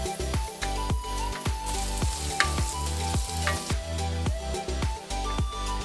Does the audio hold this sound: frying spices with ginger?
yes